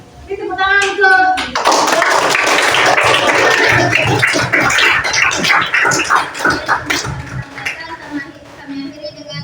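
A short spoken Indonesian phrase, then a burst of loud clapping from a group that gradually thins out and fades to scattered claps.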